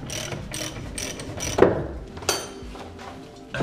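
A wrench works the sway bar bolts on an E36 BMW during differential and halfshaft work, giving a close series of ratcheting clicks and metallic knocks. Two sharper clanks stand out, and no one talks.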